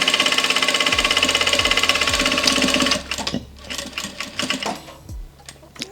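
Vevor industrial sewing machine running in fast, steady rapid stitching for about three seconds, then slowing into shorter, uneven bursts of stitching with brief pauses, close and loud, with a low motor hum underneath.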